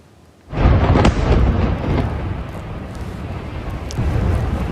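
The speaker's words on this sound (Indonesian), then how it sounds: "ledakan besar terjadi usai serangan udara Israel menghantam sejumlah wilayah Lebanon Selatan" A sudden loud blast from an Israeli airstrike in southern Lebanon erupts after a brief quiet, then rolls into a long, heavy rumble that lingers and swells again near the end.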